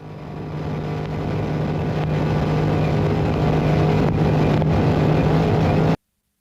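Engine of an off-road race vehicle in the NORRA Baja rally, holding a steady, loud, sustained drone at throttle for about six seconds, with a strong constant hum and no talk, then abrupt silence.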